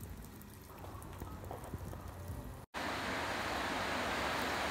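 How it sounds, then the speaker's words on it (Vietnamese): Heavy rain with hail and gusty wind during a New Year's Eve storm in Thai Nguyen, a dense steady hiss of downpour that cuts out briefly, then returns louder and fuller. "Ủa, trời đang mưa rất to này. Ở Thái Nguyên có mưa đá này,"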